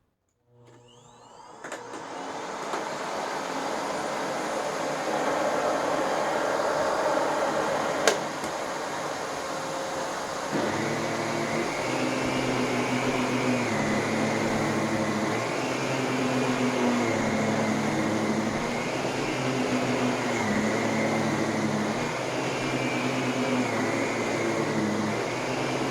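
A Dyson DC65 upright vacuum cleaner picking up sand on the floor, starting with a whir and then running as a loud steady drone whose pitch shifts as it moves, with a brief sharp rattle of grit.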